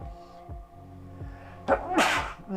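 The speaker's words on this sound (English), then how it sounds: "I always sneeze twice and always on stream" A person sneezes once, a sharp broadband burst near the mic, over steady background game sound with low harmonic tones, during a livestream of Marvel Contest of Champions.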